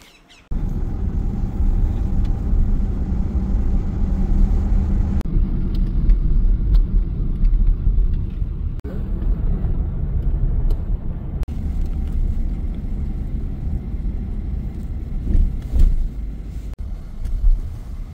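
A car drives along, heard from inside the cabin as a steady low engine and road rumble that continues without break, with a few faint knocks.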